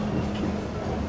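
Walt Disney World Railroad train at Magic Kingdom rolling along its tracks, a steady low rumble with faint rhythmic wheel clatter, close and continuous.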